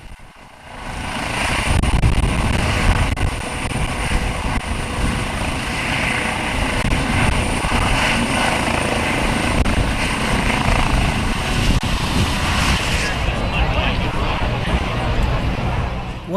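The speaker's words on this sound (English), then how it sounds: "the landing of the state police helicopter at the Patton Homestead" A state police helicopter lands at the Patton Homestead during a military service day event, its loud, steady rotor and engine roar filling the scene while a crowd murmurs faintly beneath.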